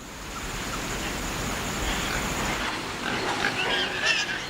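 Pigs wallowing in sand on a beach give soft grunts over a steady wash of surf and wind, with low, irregular snuffling just audible beneath the constant roar.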